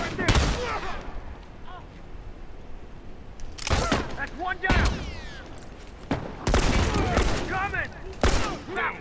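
Video game gunfire rattles in bursts and single loud shots spread across the span, with sharp booming reports between quieter stretches, while someone talks over the action.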